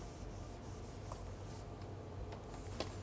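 Hand drawing a race poster scene, a pencil or pen rubbing and scratching steadily on paper at close range, faint and continuous with a few sharper strokes, no voices.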